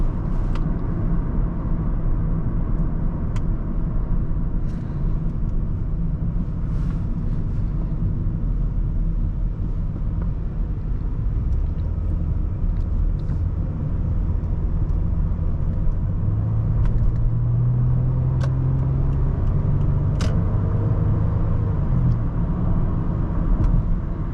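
A 2010 Lexus ES350 V6 engine rises gently past 2,000 RPM from inside the cabin, a steady low hum with faint road rumble and a subtle climbing tone.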